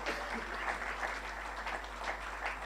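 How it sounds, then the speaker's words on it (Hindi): Audience applause at an awards ceremony honoring a school's water treatment model, a steady, fairly faint wash of clapping that continues evenly without voices. "बहुत ही जोरदार तालियों से अभिवादन कीजिए"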